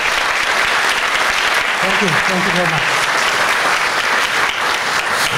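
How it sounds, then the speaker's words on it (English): Sustained, loud audience applause after a lecture on the history of the Jews of Iraq, dense clapping filling the room continuously while a speaker briefly talks over it. "I'd like you at this point in time to join me one more time in a round of applause,"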